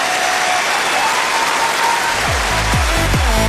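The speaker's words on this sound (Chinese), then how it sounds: "音乐停，掌声别停啊！" An audience at a stage variety show applauds loudly and steadily, with dense clapping that fills the whole stretch, while low swooping tones sound faintly beneath toward the end.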